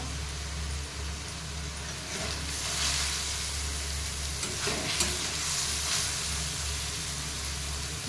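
Beetroot and spices fry in a pan for aloo chop, a continuous moderate sizzle and hiss with occasional stirring swells, close and steady, with no one speaking.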